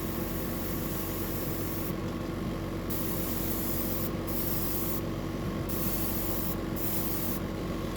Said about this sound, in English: we'll just do a light spray over the back and down the sides there